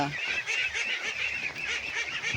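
A flock of pet ducks feeding on snails sends up constant, close, overlapping honking quacks in a busy chorus with no pauses.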